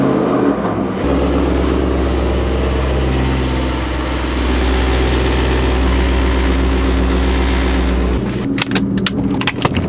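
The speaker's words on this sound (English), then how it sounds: "when I cold started the Mustang, the exhaust would be kind of buzzing" A Ford Mustang cold start with exhaust buzzing from a loose clamp: the engine catches after a second and settles into a loud, steady low idle drone with rattly buzz, then cuts off near the end amid a few sharp clicks.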